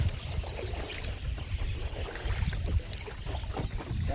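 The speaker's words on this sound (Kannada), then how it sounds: "ಫುಲ್ ಸ್ಪೀಡ್, ಟಾಪ್ ಗೇರಲ್ಲಿ ಗಾಡಿ ಓಡಿಸ್ತಾ ಇದ್ದಾರೆ" A fishing boat running at full speed in top gear at sea, a steady low engine drone mixed with rushing water and wind noise, continuous and fairly close.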